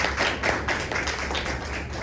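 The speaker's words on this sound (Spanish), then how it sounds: "Un aplauso, por favor, para todos." Audience applause for presenters at a research group's talk on the Qhapaq Negro dance of Paucartambo, a steady patter of hand claps from a modest crowd filling the room for about two seconds.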